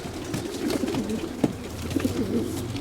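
A male pigeon, one of Müller's racing cocks from a German champion line, coos in low rolling phrases, repeated steadily and fairly close with a soft background hum.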